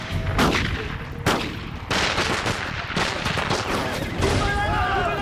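Bandits open fire in an attack on a merchant camp: loud close gunfire in several sharp bursts and volleys, cracks repeating over a dense, noisy background with shouting.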